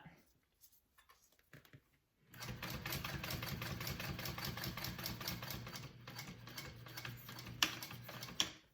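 A sewing machine top stitches a handbag flap closed, a steady rapid mechanical chatter that runs continuously and fairly loud after a brief quiet start with small handling clicks, ending with a couple of sharp knocks.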